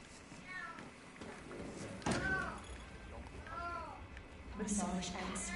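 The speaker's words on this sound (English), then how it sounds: "She's a loud kitty." A loud, plaintive cat in a Hitman VR game lets out several drawn-out meows, one after another, while people keep chatting over them.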